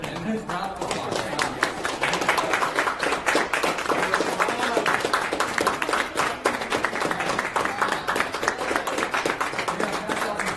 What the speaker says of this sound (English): in a round of applause